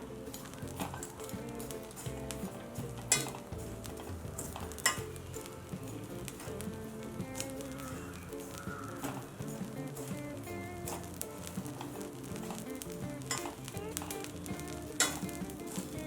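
Papad and sandige fryums frying without oil give a steady, soft crackling sizzle with scattered light pops and occasional stirring clinks, continuous and fairly quiet.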